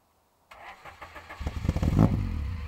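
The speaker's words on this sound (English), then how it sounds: "While you're trying to start the car." A Honda Civic's starter cranks in a rapid rhythmic churn after a moment of silence, then the engine catches and revs up loudly close by.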